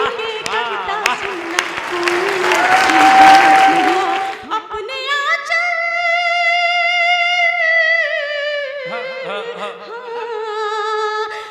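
An audience at a Hindi poetry recital claps in a dense burst for about four seconds. A woman's melodic sung recitation then follows alone.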